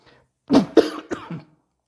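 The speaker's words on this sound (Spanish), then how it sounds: "ya me di un poco de tos" A short fit of coughing, three or four close, dry coughs in quick succession, fairly loud and near, with no talking.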